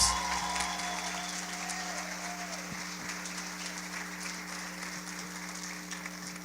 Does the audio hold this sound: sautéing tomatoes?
no